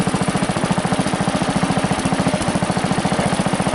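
A Bolens Husky Gold 600 lawn tractor engine idles very low, with a steady, rapid chugging pulse that is close, even and uninterrupted, and no voices.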